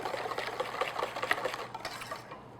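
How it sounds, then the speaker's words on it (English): Chocolate apple cake batter being stirred in a bowl, a steady busy scraping and swishing that runs continuously at close range, with no talking. "So now we're going to let's give this a quick stir again."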